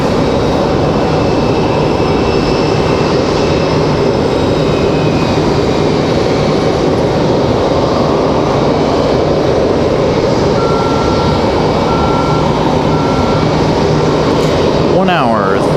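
A JetBlue Airbus A320 jet airliner at Raleigh-Durham International gives a steady, loud engine roar that holds throughout, with a brief higher whine and a short bird chirp near the end.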